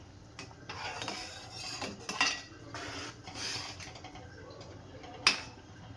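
A spoon scrapes and clinks against a metal pot while tomato rasam is stirred with coriander powder, giving irregular close-up strokes and sharp taps, one bright clank near the end, over a faint background hum.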